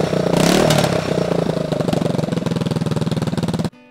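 Suzuki GN400 motorcycle engine running after carburetor and idle adjustment, a loud, close, steady pulsing thump that drops away abruptly at the end.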